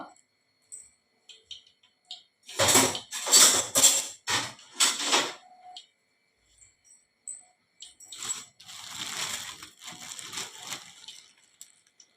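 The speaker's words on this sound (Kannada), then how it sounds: "ಇದಕ್ಕೆ ಸ್ವಲ್ಪ ಕಡಲೆ ಹುಡಿ ಮತ್ತು ಸ್ವಲ್ಪ ಅಕ್ಕಿ ಹುಡಿಯನ್ನು ಹಾಕಿ ಬೆರೆಸಿಕೊಳ್ಳುವ" Sweet pumpkin pieces tossed and mixed with gram flour and rice flour in a bowl, in bursts of close, soft rustling and scraping that start and stop.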